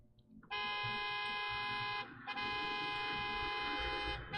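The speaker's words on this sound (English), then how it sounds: "Honking the horn." A car horn in a zombie video game blares in two long, loud, steady honks separated by a short break, with faint background noise underneath.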